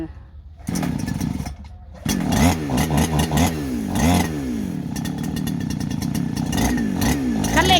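A small engine on a farm revved by hand throttle, a loud close buzzing drone that rises and falls in pitch with repeated throttle changes, mechanical rattle underneath.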